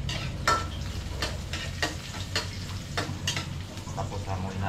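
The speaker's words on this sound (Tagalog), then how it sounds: "Gigisa lang po natin ito siya sa kuwan. Sama din sa sibuyas at bawang." Onion and garlic sautéing in a pan, with a steady background sizzle punctuated by several sharp scrapes and stirring clatters of a utensil, close and moderately loud, with no talking.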